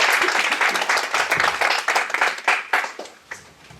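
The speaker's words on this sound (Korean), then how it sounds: "박수로 보여주십시오." A small audience at a corporate open-house presentation claps to welcome a speaker, with distinct individual hand claps standing out in the brisk applause before it tapers off into a few scattered claps.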